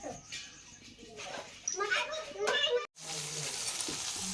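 Potatoes, onion and brinjal sizzling in a pan, a steady frying hiss that runs through the clip, with voices talking over it.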